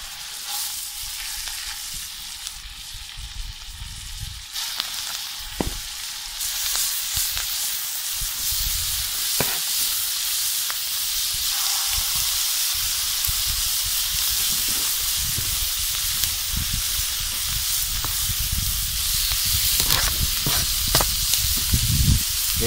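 Moose roast meat sizzling and hissing in a frying pan, with onions, thyme and juniper branches, a continuous loud frying crackle with occasional stirring knocks, no voices.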